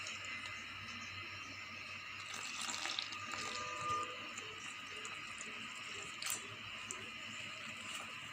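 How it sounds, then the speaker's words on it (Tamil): Water trickles quietly into potato masala bonda dough as it is kneaded by hand, a faint, steady pouring and sloshing with a few soft wet squelches. "கொஞ்சம் கொஞ்சமாக தண்ணி ஊற்றி பிசைஞ்சிக்கலாம்."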